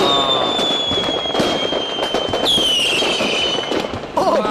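A $40,000 fireworks display of thousands of shells launches in a loud, dense barrage of whistling rises, pops and crackling bursts that continue throughout.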